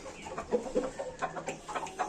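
Short, uneven clucks and calls from a rooster held in someone's hands, a young bird whose head was once pecked open by its mother; a handful of close, distinct calls with no talk.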